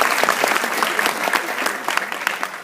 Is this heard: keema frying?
no